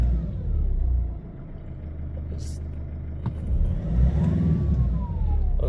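2013 Nissan Navara diesel engine with a fuel pump fault revving up from idle, a close, low rumbling drone that swells and eases, with brief faint mechanical noises over it.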